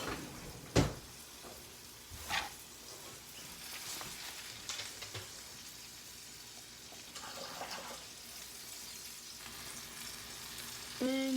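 Hash brown frying in butter in a pan, a soft steady sizzle with occasional clinks and scrapes of a utensil, heard up close with no talking.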